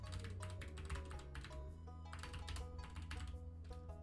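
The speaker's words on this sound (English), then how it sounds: "I'm typing this" Rapid typing on a computer keyboard, quick irregular clicks in bursts with brief pauses, close and fairly quiet over a steady low hum.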